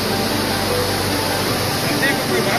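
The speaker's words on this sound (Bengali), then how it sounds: "এই হলো লোদ ওয়াটার ফলস।" Lodh waterfall in Jharkhand gives off a constant, dense roar of falling water, loud and unbroken throughout.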